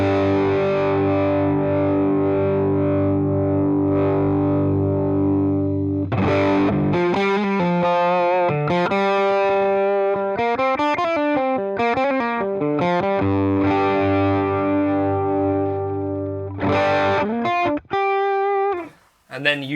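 Electric guitar through a Fractal model of a Fender Deluxe Reverb amp with an SD9 Sonic Distortion pedal in front, the tone kept low: loud sustained overdriven chords ring out, then a run of picked melodic notes and bends, ending in short choppy stabs.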